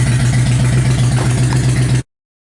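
A Harley-Davidson motorcycle with a leaking fuel line idles loud and close in a steady, lumpy rumble. The sound cuts off abruptly at the end.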